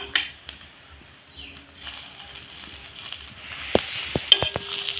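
Egg paratha frying in oil in a pan, a soft sizzle and crackle with a few louder spatters and scraping clicks near the end.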